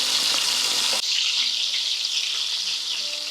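Steady bright sizzle of shrimp frying in a pan, continuous and fairly close, with a brief dip partway through and no talking.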